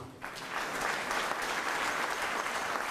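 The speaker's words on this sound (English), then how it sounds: "I hope I get as loud a cheer as Conor got" Audience applauds with some cheering at the launch of Ireland's first FordStore in Cork, a dense, steady wash of clapping that swells in after a quiet start and holds loud and even to the end.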